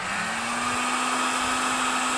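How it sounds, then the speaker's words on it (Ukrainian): A hair dryer blows steadily at close range to heat a moped front wheel for bearing replacement, a continuous loud whirring rush of air with a constant motor hum throughout. "Спробую феном, якщо не вийде"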